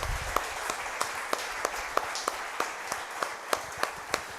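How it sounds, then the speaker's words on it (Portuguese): A church congregation applauds together, with dense steady clapping across the whole stretch and sharper individual claps standing out now and then. It sounds like a large room, fairly loud, with no talking. "Você pode aplaudir ao Senhor, queridos, por essa palavra?"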